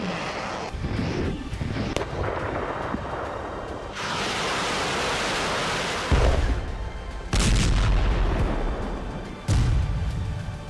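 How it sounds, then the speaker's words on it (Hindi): Russian air strikes and explosions across Ukraine, a run of loud booms with broad rumbling noise and sharp blasts near the middle and end, steady and dense throughout with no voices. "हम शुरुआत कर रहे हैं रूस के उन हमलों से जिसने पूरे यूक्रेन में हाहाकार मचा दिया है।"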